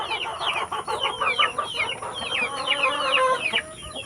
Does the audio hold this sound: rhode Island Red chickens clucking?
yes